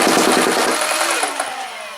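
A modified Nerf Rapidstrike blaster fires full auto with its pusher motor at full power and flywheels at half: a fast, dense mechanical burst that starts loud and spins down toward the end.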